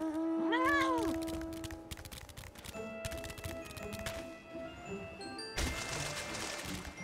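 A corpse cat mount in Final Fantasy XIV lets out a loud, drawn-out meow near the start, followed by game effect sounds, chimes and a burst of noise.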